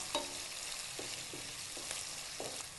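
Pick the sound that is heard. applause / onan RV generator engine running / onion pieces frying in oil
onion pieces frying in oil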